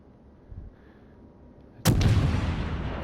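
A cruiser's HE-loaded guns fire a salvo in World of Warships, a sudden loud booming blast arriving after quiet engine ambience, then a sustained roaring rumble that lingers to the end.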